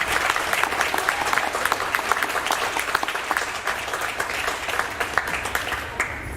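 A school award ceremony audience gives honor roll students a round of applause, with steady, fairly loud crowd clapping that holds throughout and tapers slightly at the end.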